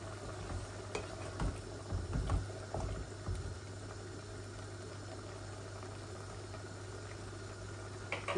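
A pot of taro curry with dried fish comes to a boil, producing a faint, steady bubbling sizzle beneath a constant low hum, with a few soft knocks early on.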